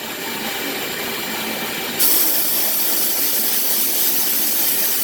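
A Harbor Freight sandblaster blasts steadily with a loud, broad air-and-grit hiss that jumps sharply in intensity partway through, then holds constant without speech.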